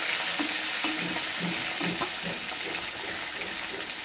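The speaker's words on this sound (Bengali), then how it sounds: "একসঙ্গে সব মাছগুলোকে ভাজবো" Large catla fish pieces fry together in hot oil, a steady dense sizzle with soft crackles and faint stirring taps throughout, close and continuous with no voices.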